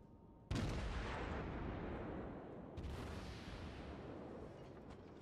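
Naval artillery in World of Warships: a sharp, heavy boom from a ship's guns opens onto a long rumbling roar, and a second blast follows a couple of seconds later. Both are moderately loud and sit over steady background din.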